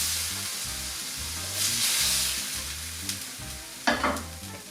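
Pieces of lamb for a tagine fry in a hot pan with a steady, close sizzle that swells and fades as the meat is stirred. A low tonal hum runs underneath, and a sharper burst of hissing comes near the end.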